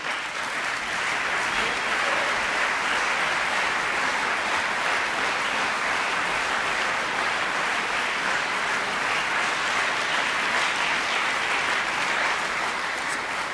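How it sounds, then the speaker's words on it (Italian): An audience at a Romansh song festival competition applauds the jury with steady, dense clapping that holds at an even level the whole time, with no voices over it. "Un applaus per la giuria."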